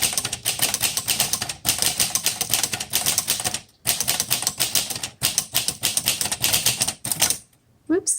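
Steady, fairly loud typing on a 1936 Corona Silent Flat Top typewriter, a dense run of key strikes broken by two short pauses and ending in a brief click, with no talk.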